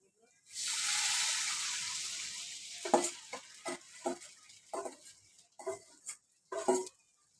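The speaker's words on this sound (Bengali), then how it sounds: "এবার ডালটা দিয়ে দিচ্ছি ডালটা" Dal poured into a hot pan hits with a sudden loud sizzle that fades gradually, then someone talks in short phrases while the sizzle fades.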